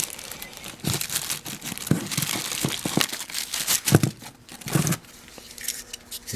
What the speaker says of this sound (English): So let me get it out of the bag here.